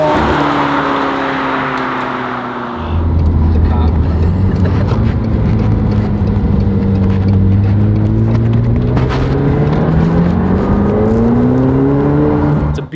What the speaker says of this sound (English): beautiful car.